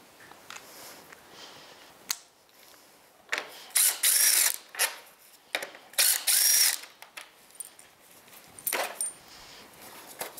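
A ratchet with a 10 mm socket works on engine parts of a 2007-18 Jeep Wrangler during a water pump replacement, giving several close bursts of rapid pawl clicking separated by short pauses.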